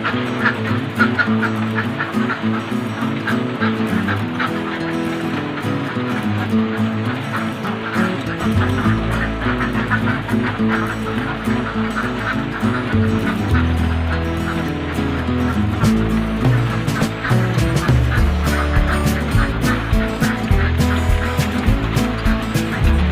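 A large flock of egg-laying ducks on a farm quacks continuously and loudly, with dense overlapping calls that go on throughout, over a low rumbling background.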